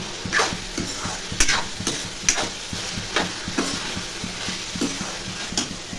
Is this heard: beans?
yes